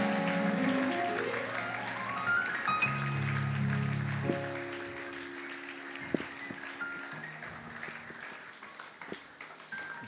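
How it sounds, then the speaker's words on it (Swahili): A church congregation claps together in steady applause, a broad wash of hand claps that gradually thins, with a sustained keyboard or organ tone underneath. "Shangilie Bwana Yesu kwa makofi zaidi na zaidi na zaidi."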